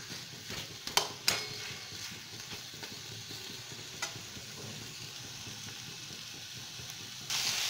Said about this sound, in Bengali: মশলার সঙ্গে ডাঁটাটা কষানো হয়ে গেছে, একটু তেলও ছেড়ে দিয়েছে।